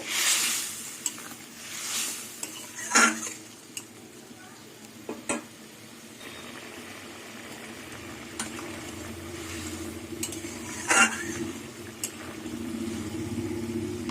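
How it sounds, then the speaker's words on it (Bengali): Small fried fish simmering in a spicy curry gravy for a Bengali fish chorchori, giving a soft steady bubbling and low sizzle with occasional spoon clinks against the pan. "ভাজা মাছ দিয়ে কিছুক্ষণ আবার ফুটিয়ে নেব"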